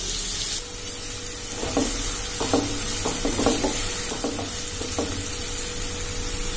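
Finely chopped onion sautés in oil and butter for a prawn masala dosa filling, a steady sizzle with a few clustered scraping stirs of a spoon in the pan, close and moderately loud.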